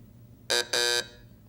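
Game show buzzer on Blockbusters, two loud harsh electronic blasts in quick succession, the first short and the second longer, standing alone against a quiet studio background.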